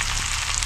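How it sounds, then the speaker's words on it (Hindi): Garam masala and salt fry in a pan while being stirred, giving a close, steady, bright sizzle for a brief moment. "और इसको चलाकर हम भून लेते हैं।"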